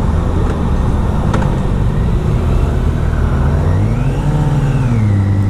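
Engine of a 2018 BMW K1600 Grand America motorcycle drones loud and close, its pitch sliding up as the clutch is slipped, over steady road and wind rumble.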